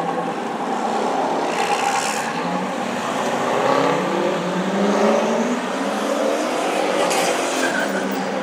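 Turbocharged car accelerating at a Cars and Coffee meet in Richmond, a loud continuous engine roar with rising and falling pitch and some tire-squeal-like hiss, steady and fairly close throughout.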